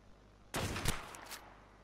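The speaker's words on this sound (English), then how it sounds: "I'm gonna start shooting." Gunfire in the Ark Survival Evolved video game bursts out as a short, loud cluster of rapid shots lasting about a second, then fades back to a faint, quiet background.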